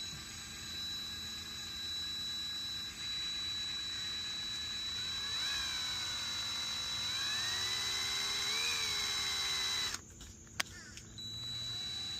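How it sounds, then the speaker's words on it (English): A small drill whines steadily at high pitch, rising and dipping as it bores holes into a 3D-printed crankbait fishing lure, then stops abruptly near the end. "I had forgotten to drill the holes in the front"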